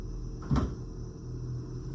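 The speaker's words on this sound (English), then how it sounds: "I just heard a package from Amazon be dropped outside my door." A delivered package dropped onto the ground just outside a door makes one short, muffled thump, heard from indoors over a low steady background hum.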